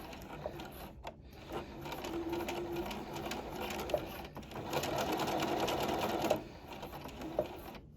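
A sewing machine stitching the shell and lining layers of a garment, a close, steady mechanical whirring and rattling run with brief stops and restarts.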